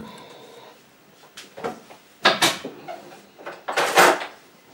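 Clattering of kitchen utensils and rummaging, with several sharp knocks and scrapes as a whisk mixer is pulled out of a drawer or cupboard while baking magdalenas.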